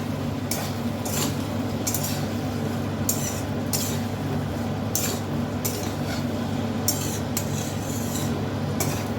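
A spoon scrapes and clinks in a pan while pumpkin, potato and fried prawns are stirred for a Bengali chochhori, with repeated clattering strokes in an uneven rhythm over a constant low hum, close up.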